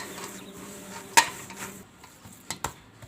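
Semolina and potato mixture being combined in a metal vessel for a snack, giving soft scraping stirs and a few sharp utensil clinks against the pot, close by with no talking.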